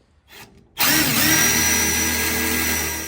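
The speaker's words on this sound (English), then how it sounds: "We got the first hole drilled out." A power drill bores a bolt hole for a seat in a 1952 Dodge, starting abruptly after a faint pause and then whining steadily and loudly up close for a few seconds.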